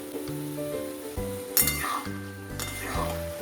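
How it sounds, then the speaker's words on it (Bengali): Mixed vegetable pickle with salt, turmeric and chilli powder being stirred in a pan over gas, a soft sizzle under repeated scraping and clinking strokes of a spoon, close and steady with no talk. "ভালো করে এটা মিক্স করে দিচ্ছি।"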